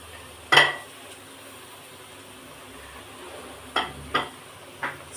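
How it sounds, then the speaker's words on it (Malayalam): Drumstick leaves and coconut sautéing in a pan: a faint, steady sizzle broken by a handful of sharp spatula scrapes and clinks against the metal, spaced irregularly. "അപ്പം മുരിങ്ങയില ഇട്ട് ഇന്ന് നന്നായിട്ടൊന്ന് വഴറ്റുന്നു."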